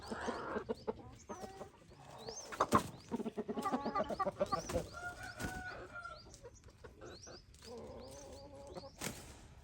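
A chicken clucks in quick, uneven bursts of short calls, fairly close, with other fowl chattering softly in the background.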